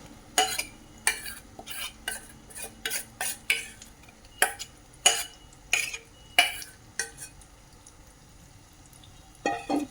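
A spoon scrapes rhythmically through semolina batter in a metal wok, producing repeated close, crisp strokes roughly every half second over a faint background sizzle.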